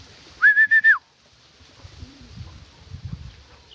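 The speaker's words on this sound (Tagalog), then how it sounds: "may ibon panligaw yun" A bird gives a quick series of four bright, whistled notes, followed by quieter low cooing and faint background rustling.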